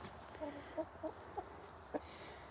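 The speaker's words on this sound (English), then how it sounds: "There's our one lone cockerel that we have left." Backyard chickens and a lone cockerel cluck in spring, several short separate clucks spaced through the moment over quiet outdoor background, with no talk.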